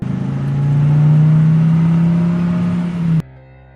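A car engine hums and revs steadily as the vehicle pulls up, loud and close for about three seconds before cutting off abruptly.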